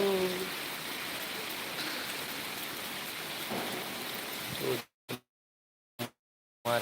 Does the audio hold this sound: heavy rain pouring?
yes